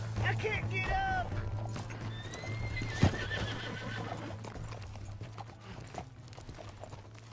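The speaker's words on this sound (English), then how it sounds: "That's my horse!" In Red Dead Redemption 2, a horse whinnies loudly, then hooves clop along at a run, with a sharp thud partway through and voices speaking over the sounds.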